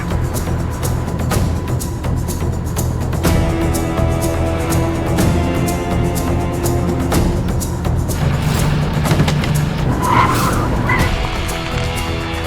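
A car drives hard with its tires skidding and squealing, a loud, sustained screech over a roaring engine for about twelve seconds, with the squeal shifting in pitch near the end.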